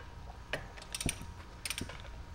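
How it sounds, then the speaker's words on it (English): Ratcheting clicks come from an extendable ratchet breaking a bolt loose while lowering springs are fitted on a Mercedes E63 W212. There are several short bursts of mechanical clicks, close and fairly quiet, with no talking. "I'm using my ratchet, the extendable one, to break it loose"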